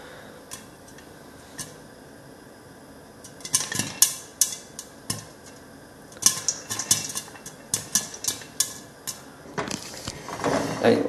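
Caramelized popcorn kernels popping in a pot, sparse at first, then turning into a dense, irregular burst of sharp pops and rattles against the metal, close and growing louder toward the end.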